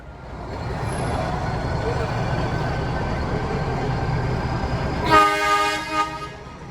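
The Ooty mountain toy train rumbles along steadily with a loud continuous mechanical roar, then a loud horn blast sounds near the end.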